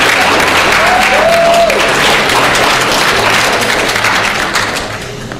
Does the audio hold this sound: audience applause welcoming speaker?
yes